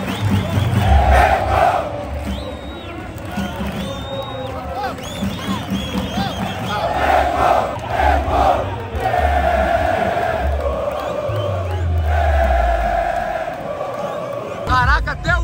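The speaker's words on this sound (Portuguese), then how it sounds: "a torcida vaiando muito" Stadium crowd at a Libertadores final booing as the Atlético team walks out, a loud sustained roar of whistles and jeers with shouting voices close by and talk mixed in.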